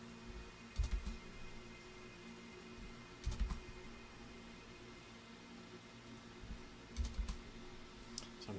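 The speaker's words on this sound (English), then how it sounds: "it doesn't help that I also hit my keys kind of hard" Computer keyboard keys struck hard in a quiet room, arriving in short clustered bursts of clacks separated by several seconds of faint hiss, fairly soft overall.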